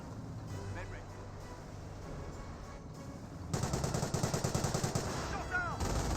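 Gunfire in the World War II strategy game Company of Heroes, in a skirmish involving a Bren carrier: a voice talks over a low battle din, then a steady, rhythmic machine-gun rattle starts midway and continues to the end.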